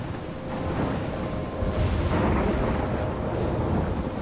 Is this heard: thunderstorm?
yes